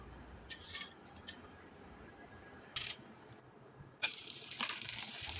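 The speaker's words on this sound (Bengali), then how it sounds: "এখন আমি আপনাদের কয়েকটা পিঠা ভেজে দেখিয়ে দিচ্ছি" Rice pitha made from leftover rice fried in hot oil: brief clattering and splashy bursts, then a sudden, loud, sustained hiss as the pieces go into the oil.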